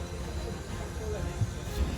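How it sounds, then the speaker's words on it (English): A diesel railcar rumbles steadily nearby, a continuous low drone with a faint hiss and a couple of heavier thumps toward the end. "It's a diesel. I think it's a diesel rail car."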